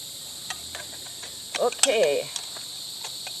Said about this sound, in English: Because of the cicadas, we didn't know what to do with the audio.